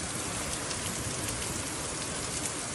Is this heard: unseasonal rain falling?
yes